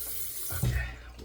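Tap water runs briefly to wet a head before a shave, a short splashing flow in a quiet bathroom setting that swells slightly midway.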